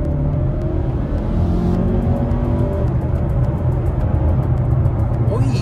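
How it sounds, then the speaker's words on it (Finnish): A 2015 Mazda 6 sedan with a four-cylinder engine accelerating at full throttle in Sport Mode, heard from inside the cabin as a loud, steady engine drone and road rumble that holds throughout. "Pistetään toi Sport Mode tohon päälle ja tehdään täyskiihdytys tästä kun käännytään."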